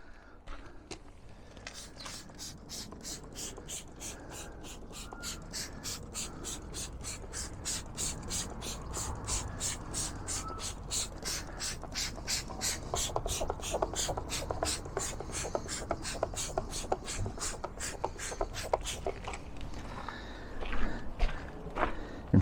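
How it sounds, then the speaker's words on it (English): A trigger sprayer squirts wheel cleaner onto a Peugeot 308's wheel over and over in a quick, steady rhythm, each spritz a sharp hiss that grows louder and denser toward the end. "I'll let that soak for a second while I spray the rear wheel."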